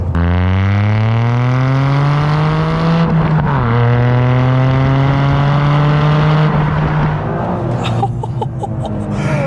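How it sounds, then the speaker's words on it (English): A Toyota GR Yaris engine revs hard in second gear and climbs steadily in pitch, briefly dips at a gear change, then pulls up again, loud and close. "do another little second gear pull because that sounds really, really good"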